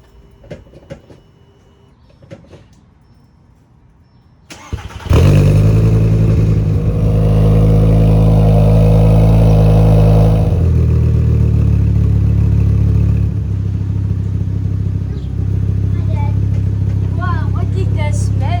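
After some faint handling noise, a Volkswagen 2.5L 07K engine with a straight-piped, muffler-deleted exhaust starts with a loud, raspy roar and settles into a rough, rumbling idle, close and continuous.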